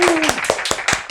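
A few sharp hand claps in quick succession, celebrating a won appeal in a family-law case, close and fairly loud with an uneven rhythm and a brief voiced tone at the start.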